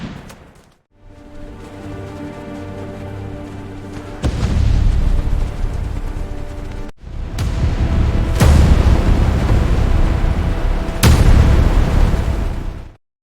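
Battle sounds from a World War I documentary: heavy booms and bursts of artillery and gunfire arrive in loud, rumbling waves, broken by sharp individual blasts, with no voices.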